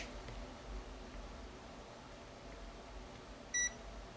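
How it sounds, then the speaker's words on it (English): A Kaiweets HT118E multimeter gives a single short, clear electronic beep near the end, sounding against a faint background hiss. "Oh, it's already beeping at me"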